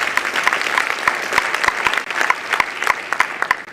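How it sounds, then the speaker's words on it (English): An audience at a high school scholarship night applauds steadily, a dense wash of many hands clapping at a sustained, even loudness with no talk over it. "how about a big round of applause, Mr. Pishka?"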